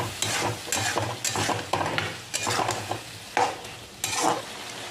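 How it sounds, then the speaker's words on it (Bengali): Chicken gizzards stirred in a wok with a little water, the spatula scraping in repeated rhythmic strokes over a steady close sizzle, with no talking. "আমি অল্প করে জল দিয়ে দিলাম। জল দিয়ে এইভাবে নাড়াচাড়া"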